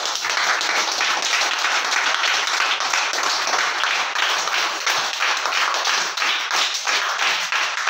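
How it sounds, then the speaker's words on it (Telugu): A large audience claps loudly and continuously after a meditation session, a dense, even roar of hands that holds steady throughout. "ఒక్కసారి అందరు బిగ్ క్లాప్స్ కొడదాం."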